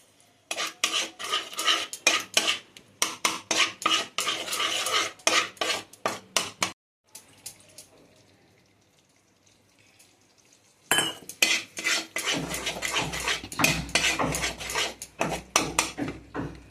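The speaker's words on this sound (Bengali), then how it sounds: "ফেটানো দইটা দিয়ে আমি কিছুক্ষণ নেড়ে তারপরে আমি আবার গ্যাস জ্বালবো" Metal spoon clatters and scrapes against a pan while beaten yogurt is stirred into soybean kofta curry, in rapid rhythmic bursts, pausing for a few quiet seconds before resuming with a low hum underneath.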